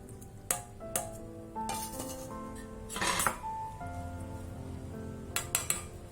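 Steel vessels clink and knock in a few sharp, separate bursts as soaked poha is drained, with a low wet background between the hits and no voices.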